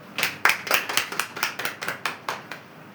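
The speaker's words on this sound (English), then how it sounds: "A big round of applause" A small group claps for about three seconds at a Toastmasters club demo meeting, a thin scatter of sharp, uneven hand claps that rises quickly and then tapers off, close and moderately loud with no talking over it.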